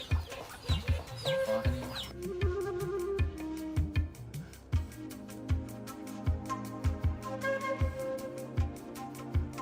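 Farm ducks and fowl quack and cluck at close range in an irregular chatter of short calls, with a steady background of other birds and no speech.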